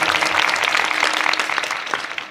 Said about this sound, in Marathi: गुरुजीसाठी जोरदार टाळी होऊन जाऊ.